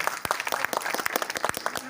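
Audience clapping at a Hindi poetry recital held by a cultural organisation, a dense burst of many hands applauding steadily throughout, fairly close and lively.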